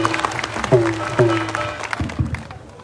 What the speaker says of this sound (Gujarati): અનંત સાહેબ માટે જોરદાર તાળી પાડો.